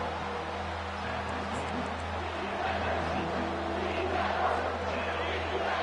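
A stadium crowd at a college football game roars steadily on a third down as fans push their defense. The sustained wash of cheering fills the whole stretch, with voices blended into the din.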